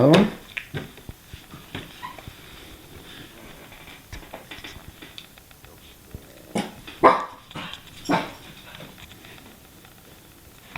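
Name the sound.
dog barking and whimpering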